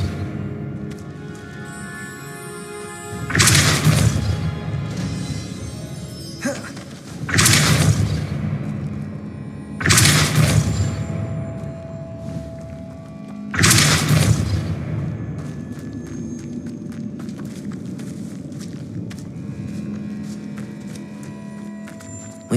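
Four heavy, booming impacts from the Depulso spell in the video game Hogwarts Legacy land a few seconds apart, each with a short rumbling tail, over a quiet ambient background.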